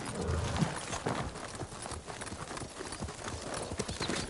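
Horse hooves clip-clopping at a steady walking rhythm in the samurai video game Ghost of Tsushima, close and continuous with faint background ambience and occasional speech.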